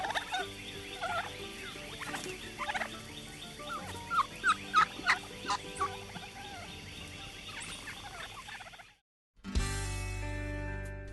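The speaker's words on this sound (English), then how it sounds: "I love to hear a turkey gobble" A wild turkey gobbles repeatedly in a Louisiana public-land outdoor setting, a run of distinct rapid bursts amid birdsong and ambient noise, followed by a brief silence and then a different louder sound.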